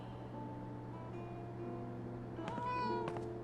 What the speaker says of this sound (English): Warning. Cat is cursed. Do not pet.